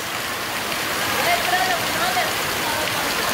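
Heavy storm rain pouring steadily onto a surface, a dense, even hiss with no distinct drops standing out, close and fairly loud for the whole stretch.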